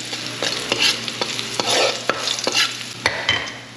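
Mustard greens stirred and sautéed in a wok, with sharp scraping strokes of a spatula every half second or so over a steady hot-oil sizzle, close and loud, no voices.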